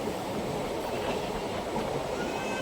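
A train rolls across the Pamban railway bridge between Rameswaram and Mandapam, giving a steady, loud rumble of wheels and carriages that holds evenly throughout with no talking.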